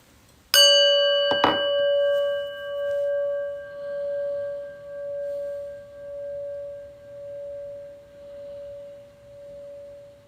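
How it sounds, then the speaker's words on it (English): A single prayer bell is struck twice in quick succession at the start of a meditation, then its clear tone rings on and slowly fades in pulsing waves over several seconds. "listen to the prayer bell"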